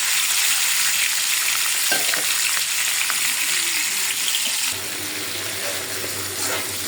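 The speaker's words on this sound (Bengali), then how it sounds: "ডিমগুলো আগে আগে ভাজিয়ে নিই।" Eggs sizzle steadily in a hot pan with a constant bright hiss and occasional stirring scrapes, no voices.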